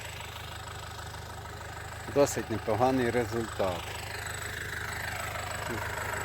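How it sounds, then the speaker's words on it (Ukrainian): A DTZ 5404K tractor engine idles steadily at a distance beside fields being disked, a low continuous drone, while someone speaks briefly over it. "Такий наш трактор."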